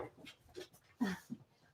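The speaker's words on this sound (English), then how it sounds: "I've got to get something for my dog. She's making so much noise." A dog whimpering and panting nearby, short irregular breathy puffs and small whines broken by brief pauses, with no talk over them.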